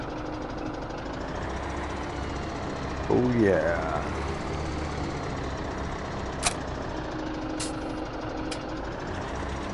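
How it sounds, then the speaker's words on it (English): A small, rough-running tractor engine in a farming video game rumbles steadily and low throughout, with a brief spoken remark partway through. "Look at that little tiny, what a crappy tractor."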